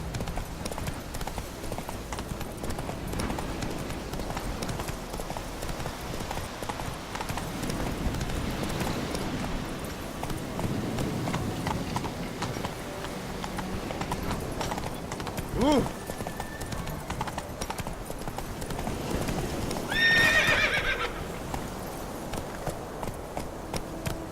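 A horse in The Witcher video game gallops with steady, rapid clip-clop hoofbeats, then gives a short whinny near the end. Game ambience and occasional voices sit underneath.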